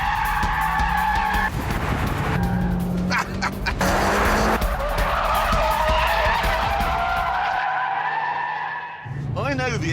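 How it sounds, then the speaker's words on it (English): Tires squeal and skid loudly as an all-wheel-drive Mitsubishi Evo or Subaru Impreza powers through four-wheel wheelspin, engine roaring throughout, with a brief drop near the end before the screech resumes. "it can keep all 4 wheels spinning endlessly"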